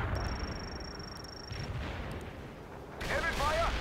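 Heavy battlefield gunfire in the World in Conflict strategy game, bursts of loud shots and booms over a noisy war backdrop, with a sharper flurry of fire near the end.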